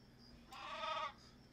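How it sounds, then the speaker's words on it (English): A single sheep bleats in the crafting game Craft the World, one wavering bleat of about half a second, moderately loud against a faint background hum. "Sheep!"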